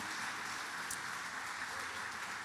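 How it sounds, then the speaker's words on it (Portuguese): A church congregation applauds during an evening service, a soft, even wash of many hands clapping at a distance, steady throughout without voices standing out. "Se você puder, você pode dar um aplauso a Jesus pela vida dela."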